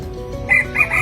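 A rooster crows once nearby, a loud, drawn-out call broken into a few rising and falling notes.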